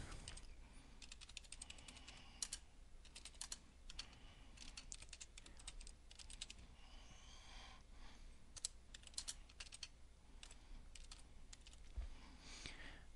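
Steady typing on a computer keyboard, continuous rapid key clicks with occasional louder strikes throughout, no talking.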